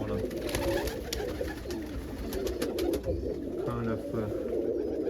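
Soft cooing of a pigeon or dove close by, repeated low calls over steady background noise, with a voice speaking briefly.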